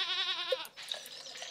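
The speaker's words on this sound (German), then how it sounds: "Es ist eine Ziege, verdammt!" A goat bleats in the Stardew Valley farming game, a wavering, vibrato-laden cry held for most of a second and heard alone, followed by softer game sounds.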